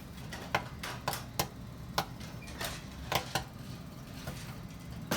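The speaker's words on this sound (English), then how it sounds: "You don't want to wait till the last popcorn kernel pops." Popcorn kernels popping in a pot on a stove, sparse sharp pops spaced out and slowing, quiet over a low steady hum.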